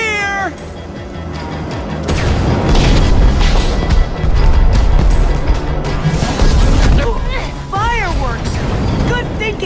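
Booming bursts and rising whistles of fireworks in Minecraft: Story Mode, loud and dense, with voices and other game noise mixed in.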